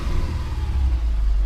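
A car engine catches and settles into a steady, loud low rumble after its fuel system has been primed and air bled out.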